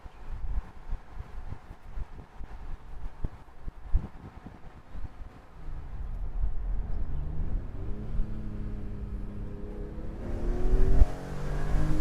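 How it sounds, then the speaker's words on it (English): A 2006 BMW M3 E46 convertible with a 6-speed gearbox pulls hard, its engine note rising in pitch as it climbs through the revs, growing louder toward the end, with wind noise building up behind it. "We're going to do some decently hard accelerations"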